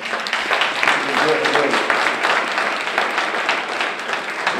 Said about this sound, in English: let's give him and Merritt College a round of applause.